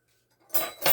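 Imitation-silver cutlery rattles together in a bag in a quick double burst of bright metallic clinking, close and loud, after a near-silent start.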